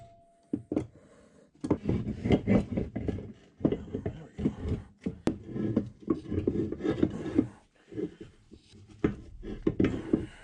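A brass hammer tapping a shaft out through the cone pulley of a 1960 South Bend lathe motor housing: irregular sharp metallic knocks and scraping shuffles in bursts, fairly close, with pauses between them.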